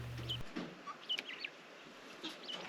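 Broiler chickens on a homestead cluck and call in short, scattered bursts, fairly close and moderately loud, with a brief low hum at the very start and no talking.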